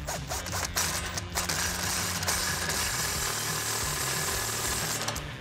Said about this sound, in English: now we're gonna tighten up the spindle nut